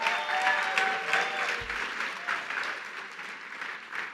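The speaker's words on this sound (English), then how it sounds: "sten Hurd, Greg Battaglia, and Gary Hilbert, let's give them a big round of applause." Steady applause from the audience at the Human Rights Campaign Greater New York Gala, a dense wash of clapping that holds at an even level for about four seconds with no voices over it.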